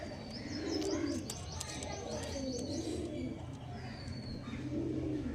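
Pigeons of the Andhra star kalka breed coo in soft, repeated rolling phrases close by, with a few high chirps mixed in and no voices.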